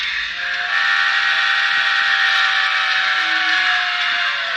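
Broadway Limited Paragon model train sound system playing a steam whistle: one sustained, chordal whistle blast that swells in and holds steadily at close range, with no talk.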